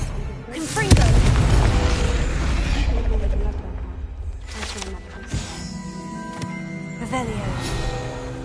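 Spell blasts from Bombarda and Confringo in the Hogwarts Legacy video game: heavy, booming explosions, one big blow near the start and more bursts later, under a speaking voice.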